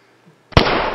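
A single sharp gunshot from a first-person shooting game goes off once after near silence, loud and close, with a burst of noise trailing behind it.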